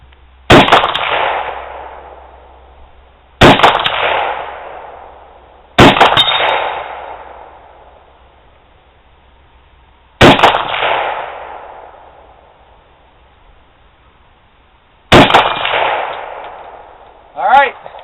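Five loud gunshots fired at a SUBMOA gun safe target on an outdoor range, each a sharp crack with a ringing tail, spaced a few seconds apart, the last followed by a brief metallic ring.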